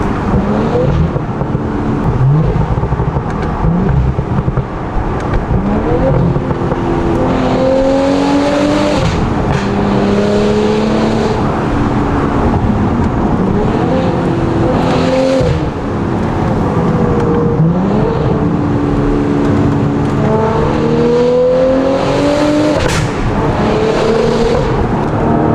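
An Audi S5 with a Valvetronic Designs valved sport exhaust and downpipe revs repeatedly, engine note rising and dropping through shifts with crackling pops, loud and close throughout.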